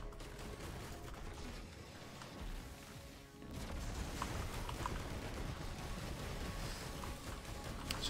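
Sustained gunfire and explosions from the Risk of Rain 2 game fill the scene, with dense, continuous battle noise and sharper shot bursts in the second half, fairly distant and steady, no talk on top.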